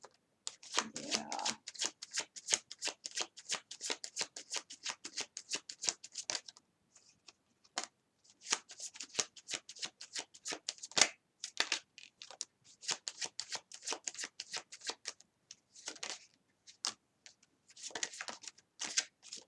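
Tarot cards being shuffled in a steady run of quick riffling bursts, close and fairly quiet, with short pauses before the flicking resumes.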